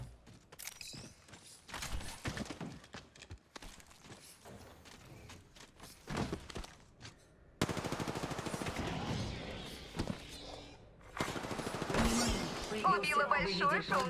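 Rifle fire from the Triple Take weapon in a video game rattles in rapid bursts, with quieter shots early and louder, denser volleys in the second half, mixed with other game noise.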